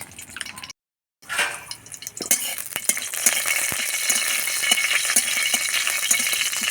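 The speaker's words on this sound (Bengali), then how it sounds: "ওর মধ্যে তেল দিয়ে দেবো, 5 ফোড়ন, একটা লঙ্কা দিয়ে ফোড়ন দিয়ে দেবো।" Panch phoron spices and a chili fry in hot oil as the base for a stalk-vegetable curry, giving a loud, continuous crackling sizzle with scattered stirring clicks after a brief silent gap.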